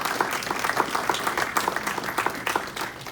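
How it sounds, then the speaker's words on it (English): An audience at a township annual report applauds the township staff with a short, lively round of close, steady clapping. "They deserve a round of applause"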